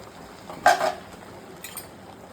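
A lid goes onto a pot of raw mango cooking for mango pachadi, giving one short clattering clink of metal lasting under a second, then quiet background hiss.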